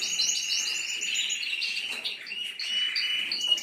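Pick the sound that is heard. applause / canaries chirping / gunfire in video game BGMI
canaries chirping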